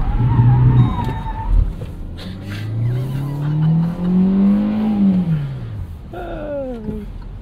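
Tires of a 2022 Hyundai Venue scrub and squeal in a long, rising-and-falling moan as the small crossover understeers through a turn, close and loud, with excited talk and exclamations from inside the car over it.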